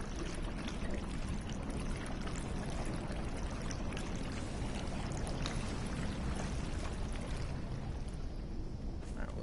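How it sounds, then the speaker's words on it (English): Water draining away inside the Conan Exiles video game, a steady broadband rush and pouring wash that runs continuously at even loudness throughout, with no talk over it. "no, the water's going back down"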